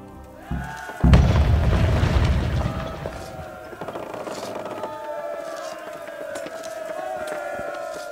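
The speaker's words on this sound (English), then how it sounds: "Then we'll bombard Talmberg for several days" A deep, loud cannon boom during the siege bombardment of Talmberg in Kingdom Come: Deliverance is followed by rumbling battle noise and a long sustained tone, with faint voices behind it.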